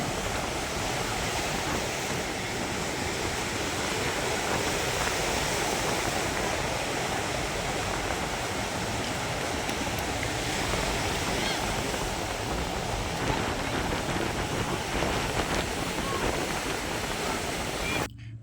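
Bay of Bengal waves wash onto the beach at Pondicherry in a continuous, broad surf roar that holds steady from start to finish, with a faint murmur of people mixed into the wash.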